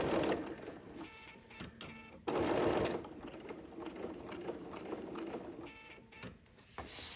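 A serger sewing machine stitching in the ditch on a Celtic knot quilting project, running in close mechanical bursts that stop and restart, louder in the middle.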